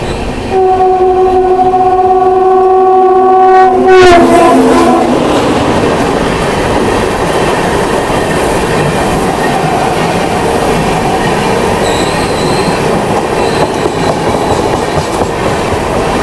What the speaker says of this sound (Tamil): வண்டி வந்துட்டு ஆக்சலரேஷன் கம்மி ஆயிடுச்சுங்க, மெதுவாயிட்டாங்க